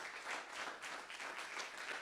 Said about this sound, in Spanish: Den ofrenda de palmas al Señor.